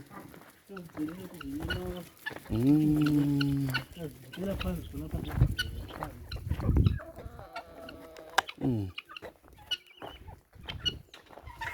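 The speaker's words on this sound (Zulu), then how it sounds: "Le inkukhu makhaya le." Village chickens on a rural homestead in Zimbabwe, with hens clucking and a rooster calling repeatedly from close by, mixed in with someone talking and other farmyard noise.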